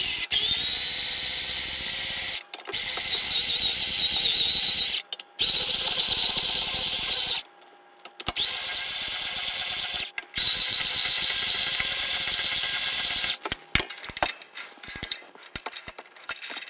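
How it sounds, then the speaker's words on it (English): An Ernie Ball peg winder spins off the strings of a Squier Bullet Stratocaster guitar, giving long, loud whirring bursts broken by short pauses, then quicker choppy ticks near the end. "So I'm gonna take off the strings first using the Ernie Ball peg winder."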